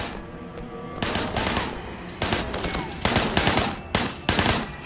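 Gunfire in Sleeping Dogs Definitive Edition, several loud automatic bursts in quick succession with short gaps between them and no talk.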